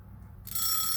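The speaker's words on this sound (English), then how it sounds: "There we go, the alarm's going." The metal alarm bell of a vintage Swiss Swiza 8 mechanical alarm clock suddenly starts ringing loudly and continuously after a faint mechanical ticking.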